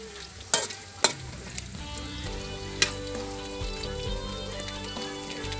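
Sweet potato fries sizzle in hot oil, a soft continuous crackle with a few sharp pops and clinks near the start, a low hum running underneath, close-up and without talk.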